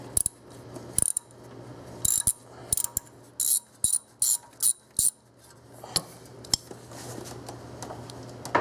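Ratchet wrench loosening bolts on the engine shield of a 2001 Oldsmobile Silhouette with a GM 3.4L V6, a series of about eight short, crisp clicking bursts in a steady rhythm, close and fairly loud, with no talking.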